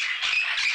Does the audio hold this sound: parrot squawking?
yes